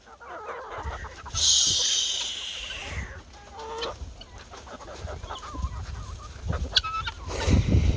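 A flock of chickens clucks and squawks as they are moved along in a hoop coop, with scattered close calls, a loud burst of squawking early on, and shuffling noises throughout.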